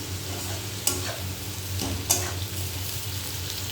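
Food fries uncovered in a pan with a steady, close sizzle, broken by two sharp stirring scrapes about a second apart.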